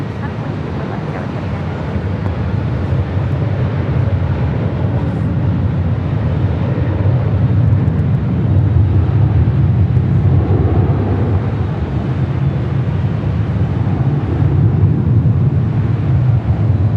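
A red-nosed airliner taking off from the north side runway at LAX roars as a steady, loud broadband rumble with wind buffeting throughout, while voices talk over it.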